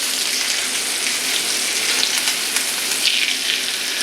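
Chicken pieces sear in a hot pan, giving a steady, fairly loud broadband sizzle with small crackling bursts throughout, no voices.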